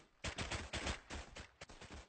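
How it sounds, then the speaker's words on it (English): Rapid bursts of automatic gunfire in a first-person military shooter game, dense overlapping shots in quick succession, loud and close with no talking. "Oh, taking fire here."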